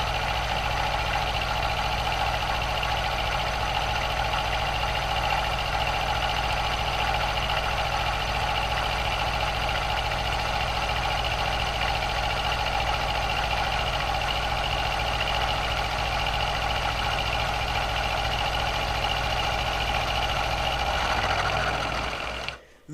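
Milling machine fitted with an end mill cutting stainless steel: a loud, continuous, steady mechanical hum and whine for about twenty-two seconds, stopping abruptly at the end.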